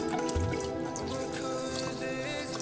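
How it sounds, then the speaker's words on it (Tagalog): Water pours from a tap onto washed glutinous rice in a rice cooker pot, a steady splashing trickle close by. "lagyan na natin siya ng tubig bago natin siya lutuin sa rice cooker"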